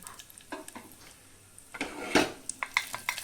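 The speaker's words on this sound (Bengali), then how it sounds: "ঘিটা গরম হলে কাজুটা আমি ভেজে তুলে নেব" Cashews fry in hot ghee in a pressure cooker, giving a faint, soft sizzle broken by several sharp metallic clinks and scrapes from stirring.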